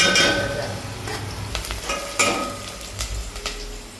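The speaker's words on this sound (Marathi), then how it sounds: "चांगला हलवून" Masala rice is stirred in a hot pan, a spoon scraping in repeated short strokes over a steady sizzle, close and fairly loud.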